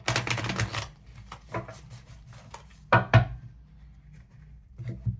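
Thick tarot cards being shuffled, clustered crisp riffles and flicks in quick bursts with brief pauses, close and fairly loud, ending in a couple of sharper card taps, no voices.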